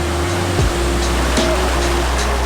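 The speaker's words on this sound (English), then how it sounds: "Amazing waterfall, and then there's a giant pool at the bottom of it." A waterfall pours into a giant pool below, giving a loud, steady broadband roar of falling water that holds constant throughout, with a low rumble underneath.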